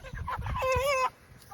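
Meat chickens in a transport crate, a nearby hen letting out a short run of clucks followed by a drawn-out squawk, brief and fairly loud.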